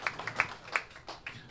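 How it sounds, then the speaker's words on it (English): A concert audience at a live roots-music show gives a handful of scattered, faint claps, sparse and uneven rather than full applause. "Yeah, you can clap for that."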